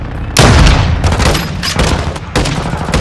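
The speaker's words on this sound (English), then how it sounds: "Hostile mortar strike near your position." Mortar strike explosions from Call of Duty Modern Warfare 2 on PS5, several loud booming blasts in sequence, the first heaviest with deep rumble, followed by two more crashing impacts with debris noise.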